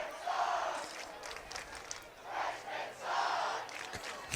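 Fans at a high school football game cheer and yell in a large outdoor crowd, rising and falling in loud surges with a distant, roomy roar between them.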